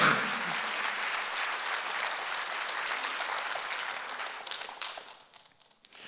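A church congregation clapping during a Sunday worship service, a dense wash of many hands that holds steady, then thins into scattered claps and fades out near the end.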